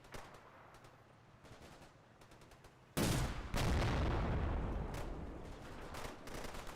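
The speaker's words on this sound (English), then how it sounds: "Oh, they're shooting at that at least." Gunfire rattles in the video game Red Thunder, with distant shots at first and then a loud burst of sustained automatic fire and booms from about three seconds on.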